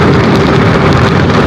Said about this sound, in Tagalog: kaso naulan pa rin.